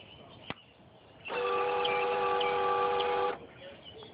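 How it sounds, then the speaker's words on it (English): A Harley police motorcycle's ignition and electronic fuel injection prime with a clean, steady electric whine, switching on abruptly after a single click, holding for about two seconds, then cutting off, close and fairly quiet. "So you click it and listen for the ignition, electronic fuel injection."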